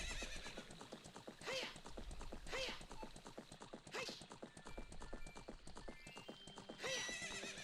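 Horse hooves clip-clop at a steady gallop in Zelda: Ocarina of Time, broken by several loud neighs and whinnies across the span, with bright game chimes near the end and no talk.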